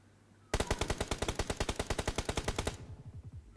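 Rapid automatic gunfire from the video game BGMI, a fast, evenly spaced burst of around twenty loud shots lasting about two seconds, with a short decaying tail and no talk.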